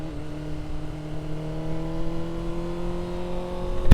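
BMW S1000RR motorcycle fitted with a one-inch lowering link, riding into a first corner, its engine droning at a steady, fairly loud pitch from the rider's position, with a short bump at the very end.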